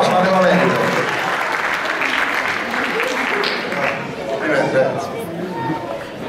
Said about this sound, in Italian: Un applauso a questa.